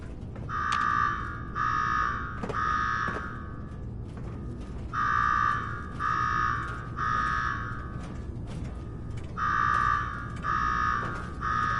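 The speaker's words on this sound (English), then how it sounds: "Now go shut off that damn alarm." A Fallout 4 alarm sounds in a repeating pattern of three sustained buzzing blasts, each group separated by a pause, cycling three times at moderate distance over low background hum.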